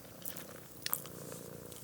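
A cat purrs loudly right beside a headset microphone, a soft continuous rumble broken by a couple of small rustling clicks, with no talk.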